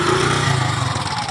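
A Suzuki Gixxer single-cylinder motorcycle runs after a piston change with a steady close engine drone and a faint rapid ticking pulse. The noise is loud and continuous and no one talks.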